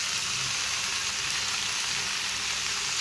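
Spiced soya chunks fry in a pan with a loud, steady, dense sizzle, stirred throughout with no pause and no voices.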